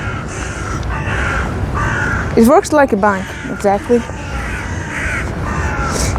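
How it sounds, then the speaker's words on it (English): Crows cawing outdoors on the University of Tehran campus, a run of harsh repeated caws in the middle distance, rising over someone talking and steady outdoor background noise. "sound of birds, the beautiful birds"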